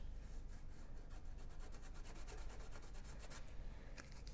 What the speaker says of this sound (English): So you will wait for your paint to dry and then just sand.